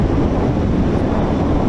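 Heavy wind roar buffeting the microphone while riding a Honda CMX1100 Rebel cruiser motorcycle, a loud continuous low rumble with no break over a couple of seconds.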